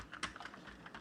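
Brief burst of typing on a computer keyboard, a handful of quick soft key clicks at close range with no talk.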